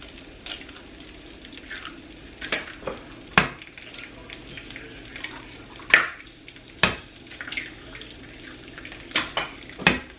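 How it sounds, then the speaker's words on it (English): A couple of eggs frying in a pan for a budget family breakfast, a low sizzle beneath repeated sharp clinks and knocks of a utensil against the pan, spaced irregularly across the span, with no talking. "I'm just going to fry up a couple eggs real quick."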